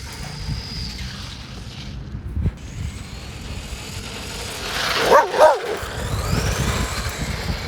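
A dog barks and yips while chasing a cheap 2-cell RC monster truck across grass outdoors, with a burst of loud barking midway over the whine of the running truck.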